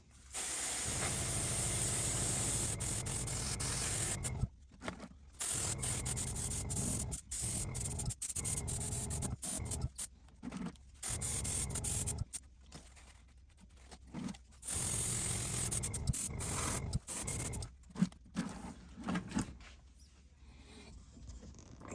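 Low-pressure spray painting of thin paint on a studio-scale model escape pod: steady hissing spray in bursts, starting and stopping repeatedly with short pauses, close by, with faint mechanical clicks between bursts and no talking.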